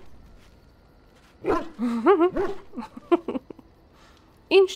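In the fantasy role-playing game Dragon Age: Origins, a dog in a camp gives a string of short barks and whining yelps, fairly close and clear against a quiet background.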